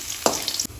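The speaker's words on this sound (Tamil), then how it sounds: "எண்ணெயிலே பூண்டு நல்லா வதங்கட்டும்" Five crushed garlic cloves sauté in hot oil with fried fenugreek seeds, a close crackling sizzle with a sharp burst of spitting and a stir partway through, then a sudden drop in level.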